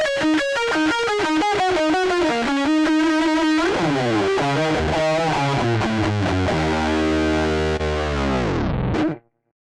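Distorted electric guitar programmed on a Fractal Axe-FX with a metal amp model plays loud, continuous riffs alone: rhythmic chugging chords, then sustained bends and ringing notes that end abruptly with a short squeal.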